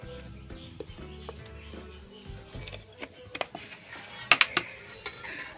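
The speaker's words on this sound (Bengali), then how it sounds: "আমি কড়া বসিয়ে দিচ্ছি। মাছটা আমি সরষের তেল দিয়ে ভাজবো, তাই আমি কড়াই সরষের তেল দিয়ে দিচ্ছি।" An iron wok is set on a clay stove and handled with scattered metallic clanks and knocks. The sounds start soft and sparse and grow sharper and louder near the end, in a quiet kitchen.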